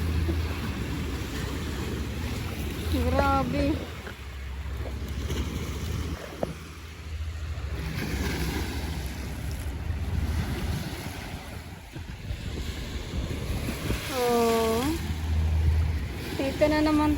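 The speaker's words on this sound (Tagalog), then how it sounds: "Lakas ng alon, no?" Strong ocean waves surge and wash continuously at a shoreline, a steady broadband roar with wind buffeting the microphone, while people talk intermittently over it.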